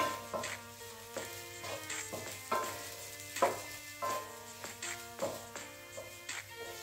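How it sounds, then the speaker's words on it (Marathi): Spices are stirred into okra frying for masala bhendi with onion-garlic masala, turmeric and coriander-cumin powder, giving steady sizzling with regular scraping strokes of a spoon against the pan, close and clear. "हे सगळं आपल्याला आता व्यवस्थित मिक्स करून घ्यायचं आहे"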